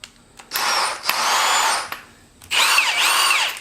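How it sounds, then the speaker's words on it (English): A Matco air ratchet runs in loud, high-pitched whirring bursts: a short burst, a longer sustained run, then another strong run after a brief pause, close up. "nothing's going to beat my Matco air ratchet"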